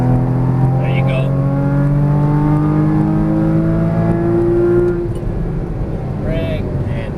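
A Porsche Cayman GTS engine pulls steadily on a race track, its rising harmonic drone loud and close throughout. An instructor talks over it as the revs climb and then ease off near the end.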